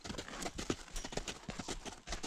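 A horse canters with a rhythmic three-beat pattern of hoofbeats, close and moderately loud, with no talking over it.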